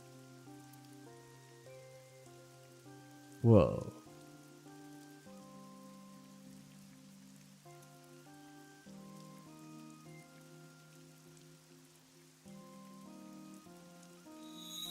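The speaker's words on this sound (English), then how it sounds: "It's raining." Rain falls in the video game AI: The Somnium Files, a steady wash heard beneath tonal game music, with a brief exclamation from a voice early on.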